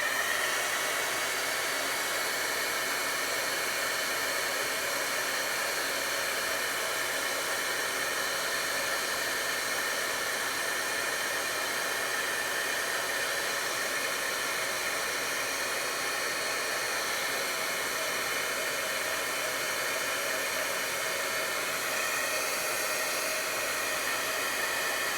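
Heat tool blowing hot air for embossing on a stained glass style snowflake card, a steady close whooshing hiss like a hair dryer that runs unbroken throughout.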